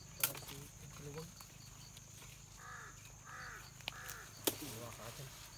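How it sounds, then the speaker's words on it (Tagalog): A crow caws repeatedly outdoors at a moderate distance, a series of hoarse calls over faint background hiss and occasional clicks. "May uwak talaga na sumusunod sa amin."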